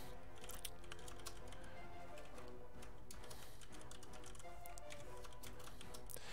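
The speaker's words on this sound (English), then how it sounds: "I'll start typing it out." Rapid, continuous clatter of keys on a computer keyboard, close and steady with dense irregular clicks and no speech.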